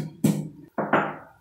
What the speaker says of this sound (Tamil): அது பூண்டு இடிக்கிற சவுண்டு